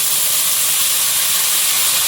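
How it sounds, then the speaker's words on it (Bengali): Water is poured into a hot pan of fried fish, producing a loud, steady steam hiss that fills the whole moment without a break. "ভাজা হয়ে গেছে, জল দিয়ে দিই।"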